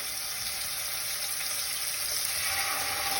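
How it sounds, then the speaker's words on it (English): Steady, close sizzling and crackling of chicken frying in a hot pan, a continuous hiss with no voices. "It should have a nice sizzle."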